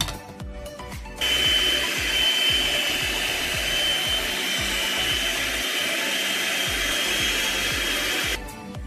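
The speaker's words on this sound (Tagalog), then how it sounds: "Okay, blend ko muna siya." A blender whirs steadily while mixing Oreo cheesecake filling, starting abruptly after a second of quiet, holding a loud, even motor whine for about seven seconds, then cutting off.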